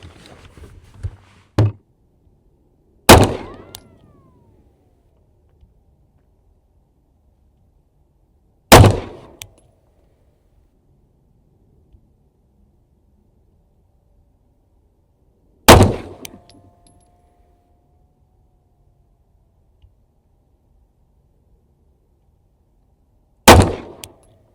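Five sharp pistol shots from an Icarus 311 fitted with an FDEZ 3.0 compensated slide and barrel, fired one at a time at an outdoor range with long pauses between them, each a loud crack with a short ringing tail.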